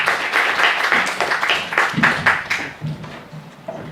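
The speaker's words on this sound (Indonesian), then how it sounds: "Kita beri tepuk tangan kepada Ibu Wening Udasmoro." Audience applause for a speaker at a discussion event on the International Day of Living Together in Peace, a burst of clapping that fades out over a few seconds.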